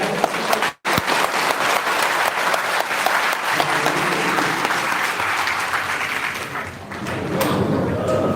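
Audience at a Tamil literary gathering clapping hands loudly in a dense, continuous round, broken by a brief dropout near the start and easing slightly before swelling again, with some voices underneath.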